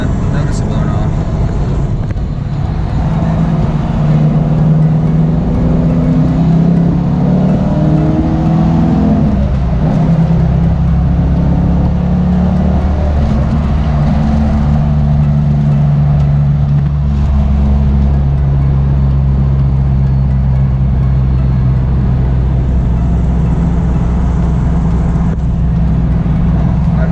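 Ford Mustang with a rebuilt 8.8 rear end and a reported vibration, driving at highway speed, heard from inside as a loud, steady low engine and road drone with rising engine tones as it accelerates.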